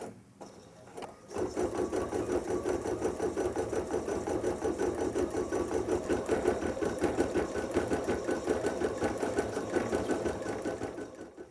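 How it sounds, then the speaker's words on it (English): Embroidery machine sewing a finishing stitch around the edges of applique shapes, a steady rapid needle chatter running continuously and loudly after a brief quiet start. "The embroidery machine is going to finish sewing all the way around the outside of all of these applique shapes"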